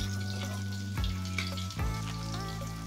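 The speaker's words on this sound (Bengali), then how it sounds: "এবার আমি আস্তে আস্তে উল্টো দিকটাও ভেজে নেব।" Fish pieces coated in ground masoor lentil powder fry in hot oil, spread out in a wide pan and turned over, giving a steady close sizzle with a low bubbling hum and brief stirring clatter.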